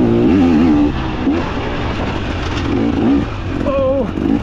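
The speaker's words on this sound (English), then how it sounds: "watch that motor come back to life" A 2024 KTM 300 XC-W dirt bike engine revs up and down in rising and falling bursts while riding, loud and close, with a voice briefly audible over it.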